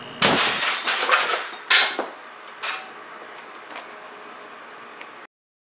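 An air cannon with a caliber 812 barrel fires an 1100 grain hard alloy cast lead slug at 450 psi into a satellite receiver, a sharp loud blast and metallic clang followed by several fading rattling impacts.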